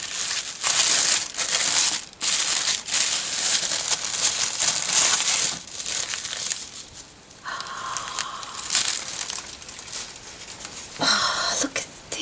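Decorative paper for Christmas banners crinkles and crushes loudly and continuously up close, with brief pauses and a few sharper rustles, and no voices.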